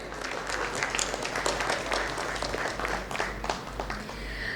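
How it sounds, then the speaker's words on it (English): Audience applause fills a hall at the Architects and Interiors India Design Debate, Indore edition: dense, steady clapping from a crowd throughout, loud and close, with no speech over it. "let us have a round of applause for Architects and Interiors India present Design Debate, Indore edition."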